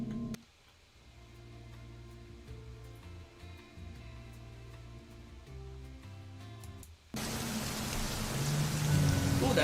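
Heavy rain at night on a flooded road in Iguatu, Brazil, starts as a steady low hiss and then bursts into a loud, dense roar of pouring rain that continues to the end.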